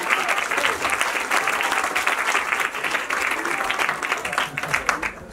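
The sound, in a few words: audience applause at award ceremony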